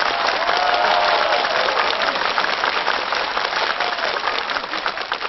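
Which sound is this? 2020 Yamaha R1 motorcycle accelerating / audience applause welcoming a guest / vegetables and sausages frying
audience applause welcoming a guest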